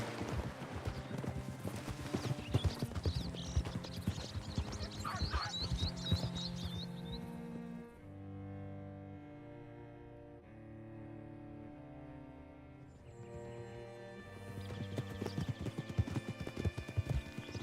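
Horse hooves clip-clop at a steady walking pace in Red Dead Redemption 2, clearest in the first half, with a sustained musical score playing underneath and carrying on after the hoofbeats fade.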